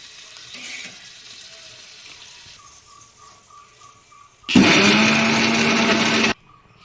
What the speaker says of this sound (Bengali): এই যে দেখো গ্রাইন্ডার বাটি আমি নিয়ে নিয়েছি অলরেডি এর ভিতরে আমি দিয়ে গ্রাইন্ডিং করে নেব